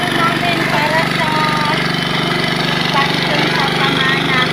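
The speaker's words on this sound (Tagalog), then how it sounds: "ito yung makina para umakyat yung tubig doon sa taas" An engine-driven water pump lifting river water uphill runs at a steady, loud, rattling drone. Voices are heard over the continuous mechanical hum.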